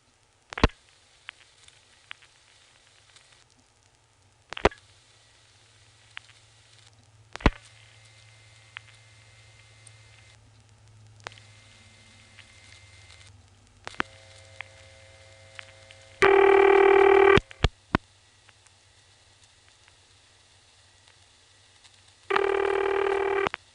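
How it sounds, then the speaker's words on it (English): Dialing through an old XY step-by-step telephone exchange in Occoquan, Virginia: sharp isolated clicks and switch clunks spread over quiet line hiss, then two loud, steady tone bursts on the line. "let me dial the rest of the number now"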